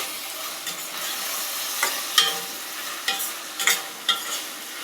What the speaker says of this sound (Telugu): ఇప్పుడు ఉప్పు నీళ్ళల్లో వేసుకున్న వంకాయలు కూడా వేసేసుకుంటే ఉడుకుతుంది